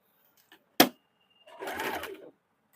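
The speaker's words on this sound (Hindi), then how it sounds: "अभी इसको डबल सिलाई चला देंगे।" A sewing machine runs a short double-stitch pass on a blouse, one brief mechanical burst after a sharp click, close and fairly quiet.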